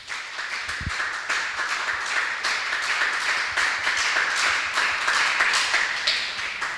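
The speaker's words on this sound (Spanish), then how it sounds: "Un aplauso al Señor." A church congregation claps at a lively rhythm, a dense run of hand claps that holds at a steady, fairly loud level from start to finish, close by and with no talking.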